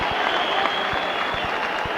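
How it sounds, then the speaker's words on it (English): A football crowd at the WAFL Grand Final between East Perth and South Fremantle applauds a player leaving the ground, a steady wash of distant clapping and crowd noise with occasional thuds. "He's coming from the ground to a hearty round of applause."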